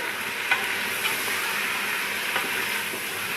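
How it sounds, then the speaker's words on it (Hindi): Mutton pieces drop into frying garlic-ginger paste and are mixed, giving a loud, continuous sizzle and hiss close by, with a few soft knocks of the stirring spoon. "तो अब हम इसमें ऐड करते हैं मटन। इसको मिक्स करते हैं अच्छी तरह से।"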